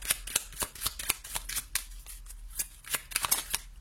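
Tarot cards are shuffled and drawn in a quick run of crisp riffles and slaps, close and fairly loud, with no talking.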